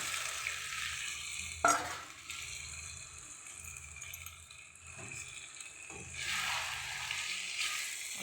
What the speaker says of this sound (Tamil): இப்போ பாயில்டு பாஸ்தா போட்டுடலாம்.